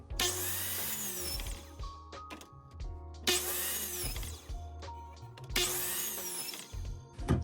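Leftover wood being cut with a power saw for a stove-sized craft project, three loud whining cutting bursts separated by quieter pauses with clunks and handling of the boards, no talking.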